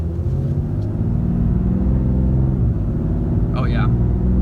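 A 2019 RAM 3500 Dually high-output pickup engine pulls gently while warm, giving a steady, loud low rumble heard from inside the cab with little revving.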